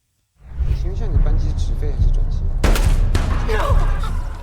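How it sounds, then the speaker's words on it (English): Gunfire erupts in a film scene outside a building as a man is shot, a loud close burst of dense shots and impacts over rumbling low noise and a whooshing sweep, continuing to the end. "She sees Richard being shot and killed outside as she gives the clerk the name."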